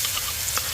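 Half-crushed garlic and dried chilli frying in oil in a wok, giving a steady bright sizzle with a few small crackles, close and moderately loud with no talking.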